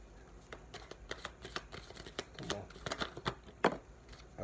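Tarot cards being shuffled by hand before one card is pulled: a run of soft, quick flicks and riffles close by, uneven in rhythm, building to a sharper slap near the end, with quiet speech faintly underneath.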